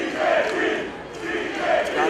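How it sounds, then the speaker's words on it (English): A sold-out wrestling crowd chants a name in a loud, steady, rhythmic roar of many voices that swells and dips over about two seconds. "the sold-out crowd chant your name"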